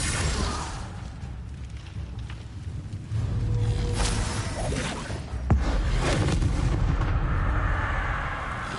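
Confringo blasting spells explode during combat in the video game Hogwarts Legacy, with dense, rumbling booms and crackling blasts layered over a continuous battle din, loud throughout.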